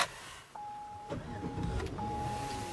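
A car is switched off and restarted: a short mechanical whir and click, then a brief engine crank and catch settling into a steady idle, heard close and moderately loud with no voices.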